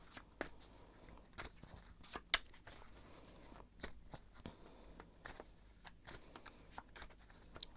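Tarot cards riffle and slap repeatedly in quick, uneven bursts, a close papery shuffling with short pauses between handfuls.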